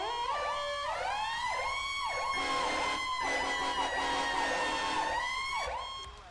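Custom emergency vehicle sirens in the FiveM game, two overlapping electronic wails sweeping up and down continuously, loud and steady with no talking, fading slightly at the end.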